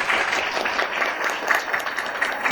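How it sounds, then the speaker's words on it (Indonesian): An audience at a talk show on young creatives applauds, a dense, even wash of clapping from a nearby crowd that holds steady for a couple of seconds. "Kita berikan tepuk tangan yang meriah."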